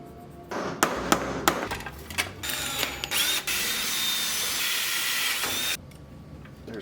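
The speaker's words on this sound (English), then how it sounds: "Drill some holes in this." A power drill bores holes in a metal bracket during an ABS pump relocation on a BMW E36 with an LS1 swap, starting with sharp taps, then a loud steady whirring run that stops suddenly, close up.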